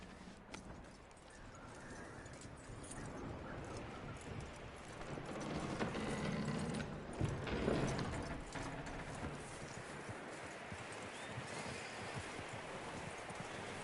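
Horse hooves clip-clop faintly over a steady wash of ambient noise in the video game Red Dead Redemption 2. The hoofbeats are soft and irregular, with a slight swell partway through.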